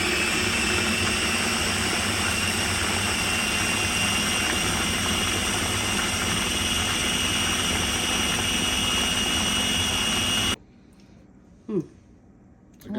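A blender or food processor whirring a tahini and lime sauce, a loud continuous whine that runs for about ten seconds and then cuts off abruptly, followed by brief quiet handling noises.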